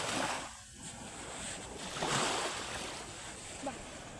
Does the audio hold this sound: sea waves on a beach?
yes